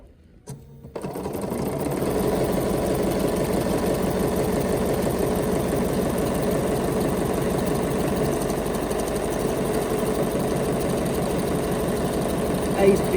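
A Bernina sewing machine stitches a buttonhole in a steady, rapid mechanical chatter that runs continuously after a brief start, with a quiet voice speaking now and then over the motor.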